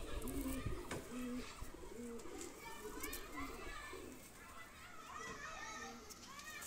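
Pigeon coos from a pair of male and female banded pigeons, soft repeated rolling calls near and clear over a busy background of children playing and chattering, with someone talking.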